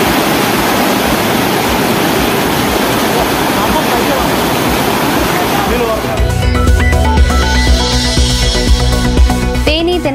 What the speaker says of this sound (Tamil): தருமபுரி மாவட்டம் அரூரில் காட்டாற்று வெள்ளத்தை கயிறு கட்டி கடந்த பொதுமக்கள்.